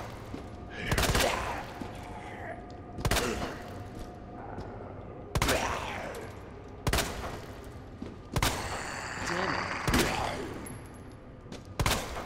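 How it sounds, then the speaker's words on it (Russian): Pistol shots ring out in the video game Resident Evil 2 Remake, a series of sharp loud single reports spaced one to two seconds apart, each with a short echoing tail over low background game ambience. "20 выстрелов выстрелил."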